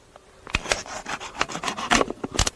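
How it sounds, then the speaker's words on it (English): A blade cuts along a plastic bottle outdoors, giving a series of rough, rasping scrapes in irregular strokes, close and moderately loud, with no talk. "Well, we cut our bottle like this and carefully."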